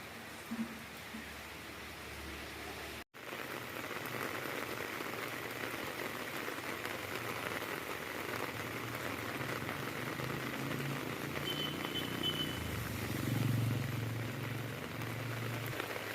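Sudden summer rain pours steadily in Puducherry, a dense, continuous hiss of drops on surfaces with a brief dropout near the start and a slight swell later on.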